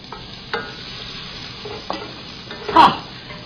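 Cumin seeds, chopped ginger and garlic sizzle in hot oil while a spoon scrapes and stirs the pan in a few short strokes, close and fairly loud, with a brighter flare of sizzling near the end.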